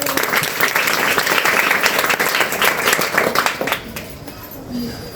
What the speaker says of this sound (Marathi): 3 टाळ्या.